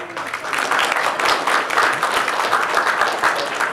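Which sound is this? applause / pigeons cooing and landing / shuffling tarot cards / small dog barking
applause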